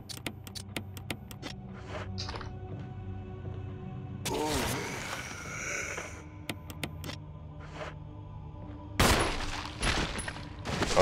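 Gunshots from the Resident Evil HD Remaster game, sharp separate cracks early on, then a dense burst of gunfire in the middle and a loud blast near the end, with game effects filling the gaps.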